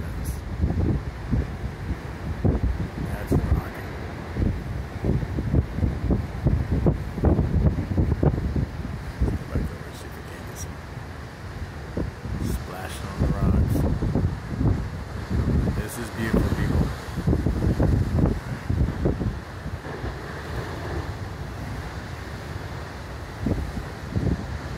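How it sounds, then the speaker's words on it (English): High wind from a storm buffets the microphone in heavy, irregular low gusts and rumbling bursts that rise and fall across the whole stretch, loud and close. "High wind."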